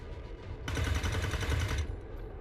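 Burst of rapid automatic gunfire in the alien-fighting game XCOM 2, a dense rattling volley lasting over a second, loud against a low rumbling background that continues after the shots stop.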